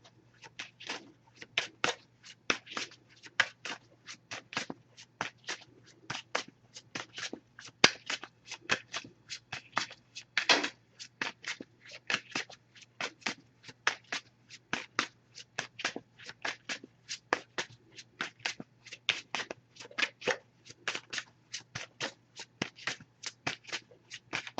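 An oracle card deck being shuffled by hand, with quick repeated riffling bursts in an irregular rhythm, close and fairly quiet against a low steady hum, no talking.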